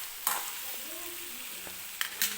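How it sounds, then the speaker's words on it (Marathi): A spoon stirs cauliflower and green pea bhaji in a pan, making a few brief scraping strokes over a soft, continuous sizzle. "आणि मिक्स करून घेते व्यवस्थित"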